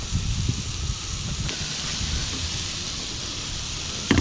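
Steady wind gusts buffet a campsite at sunset, rushing and hissing close to the microphone without letup, with a couple of brief knocks.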